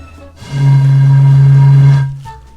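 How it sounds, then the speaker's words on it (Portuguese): An empty beer bottle blown across its mouth, resonating in a single steady low hollow tone lasting about a second and a half, close and loud, with no talk. "Se eu assoprar aqui e a gente conseguir achar o jeito certo de soprar para que isso entre em ressonância, a gente vai ouvir um sonzinho"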